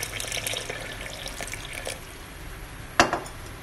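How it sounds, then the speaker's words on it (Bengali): Water pours into a blender of boiled green mango with sugar, salt and black salt for green mango juice, a close, steady splashing wash that ends with a brief clatter. "পানি দিচ্ছি"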